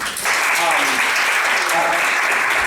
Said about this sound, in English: Clap your hands for Bishop